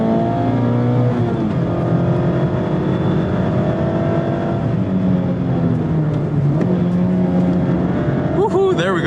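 A 2024 Mazda MX-5 Miata Club ND3 driven on a race track, its engine note rising and falling through gear changes and corners, close and loud, with a quick upshift burst near the end.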